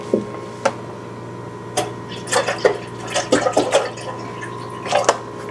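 Water trickling and splashing into a vessel in short irregular bursts, close by, over a steady low hum.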